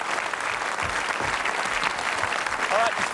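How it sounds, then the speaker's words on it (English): A game show studio audience gives a sustained round of applause, a thick, even wash of clapping with a faint voice surfacing near the end. "Let's give him a nice round of applause."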